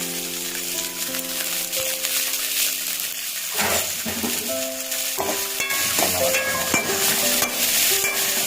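Coriander leaves being sautéed in a kadai for mutton kulambu, a busy sizzle with repeated scraping and clattering of a ladle against the pan, ringing metallic tones, no one speaking.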